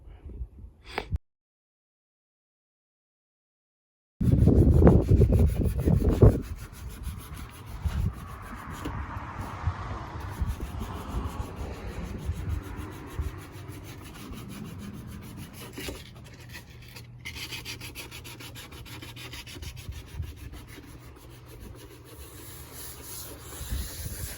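Close, continuous rasping and rubbing of sanding on a wooden underseat subwoofer enclosure for a 2020 Ford F-150, starting after a brief silence, with a louder burst early then steady scraping.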